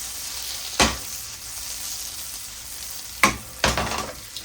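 Regular butter heating in a pan on medium-high heat before steaks are seared, giving a steady soft hiss with a few sharp crackling bursts, close and alone with no talk.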